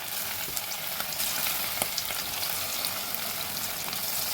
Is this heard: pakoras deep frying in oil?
yes